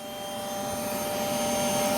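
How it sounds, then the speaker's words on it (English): A vacuum cleaner runs aboard the International Space Station, giving a steady, loud whining drone that swells slightly and has no voices over it. "the vacuum cleaner produces a lot of noise"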